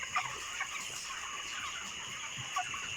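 Broiler chickens about 28 days old, near 2 kg each, cluck softly in a farm house at night. Scattered short clucks sit over a steady background hum, with no speech.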